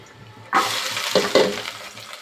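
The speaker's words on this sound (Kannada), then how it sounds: "ಸೊ ಇದು ಬ್ರೌನ್ ಆಗೋ ತನಕ ನಾವು ಇದನ್ನ ಫ್ರೈ ಮಾಡ್ಕೊಂಡು ಬರಬೇಕು" Onions frying in a pan until brown for pasta: a steady sizzle that jumps louder as they are stirred, with a couple of scraping bursts, close and loud.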